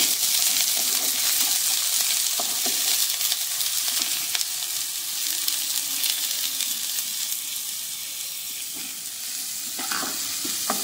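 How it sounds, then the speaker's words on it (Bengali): Chopped onion fries in a pan already holding garlic and ginger for palak paneer, giving a continuous close sizzle broken by the scrapes and taps of stirring. "পেঁয়াজ কুচিটা একটু ভাজা ভাজা করব, 1 মিনিট মতো একটু ভেজে নেব পেঁয়াজটা।"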